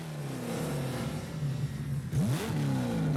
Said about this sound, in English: the way that the vehicles sound when Bean is revving up his engine a little bit later is just